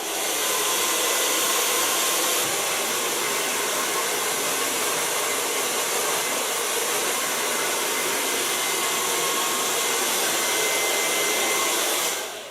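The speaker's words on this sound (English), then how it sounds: "Start blow drying this." A hair dryer blows steadily on hair during a green bob cut and colour session, a loud continuous broadband whoosh that holds for about twelve seconds before cutting off at the end, with no voices.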